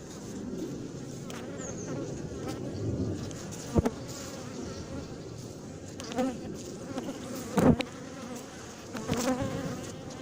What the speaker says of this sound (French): Il y a quelques abeilles qui me tournent autour agressivement